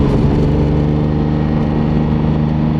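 Lamborghini Diablo VT 6.0 V12 engine running close by, a loud, steady mid-range drone with a strong low hum and no speech over it.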